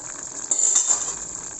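An Ilocano inabraw, or dinengdeng, a vegetable dish, simmers in a pot with a soft, steady bubbling hiss, close by. A brief louder burst of bubbling and light clinks stands out partway through, with no voices.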